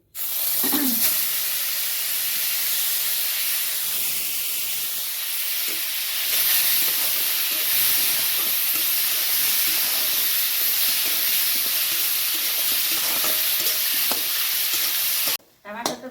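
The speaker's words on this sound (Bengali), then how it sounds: "তা টমাটোর কেটে রেখেছি ওইটা দিয়ে দেবো এই তেলে" Chopped tomatoes go into hot frying oil left from fish, sending up a loud, steady sizzle and hiss that runs unbroken for many seconds, close by, with faint utensil knocks and no talking.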